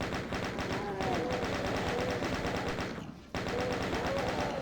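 Rapid chaingunner machine gun fire rattles continuously in the video game DOOM, a dense, even stream of shots with a brief dropout near the end, under a low game soundtrack and no talk.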